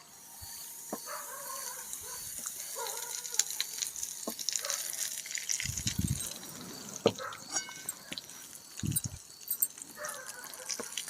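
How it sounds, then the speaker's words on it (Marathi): Hot oil pours over a raw mango pickle mix with ground spices and sets off a soft sizzle and crackle that keeps going, with scattered drips and a few stirring clinks at close range. "आणि हे तेल याच्यामध्ये आता मी टाकते हे बघा"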